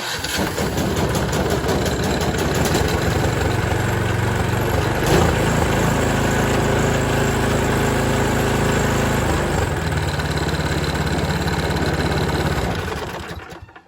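A Toro Power Max 826 snow thrower engine starts at the push of an electric start button and runs loudly nearby, a steady, rough mechanical roar that holds for over ten seconds before cutting off.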